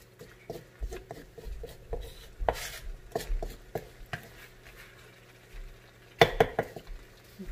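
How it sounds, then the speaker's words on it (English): Cooked mung beans are stirred into simmering pork in a pot for ginisang munggo, giving scattered clanks and scrapes of a utensil against the pot, with a louder burst of knocks near the end. "we're going to mix our mung beans"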